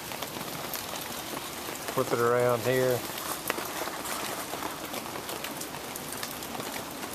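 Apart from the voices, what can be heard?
rain falling at a creekside camp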